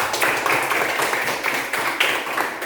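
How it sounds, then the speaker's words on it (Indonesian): Children clapping their hands together in a classroom, a brisk, fairly loud patter of many small hands with rhythmic peaks, some bursts landing in near-unison, with faint voices underneath. "Tepuk tangan dulu buat Ul."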